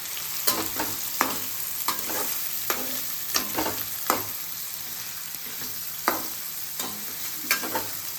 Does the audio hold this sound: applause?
no